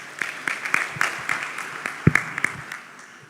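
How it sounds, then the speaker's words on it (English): Scattered clapping from a small crowd at a tech summit, uneven and moderately loud, with a few sharper claps standing out and faint voices underneath. "A round of applause for him, please."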